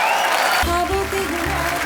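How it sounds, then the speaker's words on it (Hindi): A studio audience at The Kapil Sharma Show applauds the arrival of producer Ekta Kapoor and director Prakash Jha, with dense clapping over loud background music in a short burst. "जोरदार तालियां"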